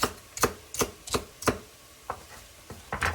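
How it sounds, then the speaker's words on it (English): Sharp knife strokes chop celery tops on a cutting board for chicken and vegetable soup, a run of crisp, evenly spaced thuds, close and clear with no talking. "Cut that up and throw that in too."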